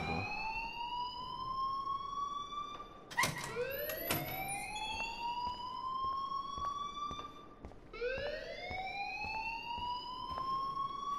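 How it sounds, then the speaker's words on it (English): A fire alarm sounds in the video game Life is Strange, a loud repeating rising electronic whoop cycling every few seconds, with a couple of brief sharp clicks or bangs partway through. "please turn off that alarm since that's your job"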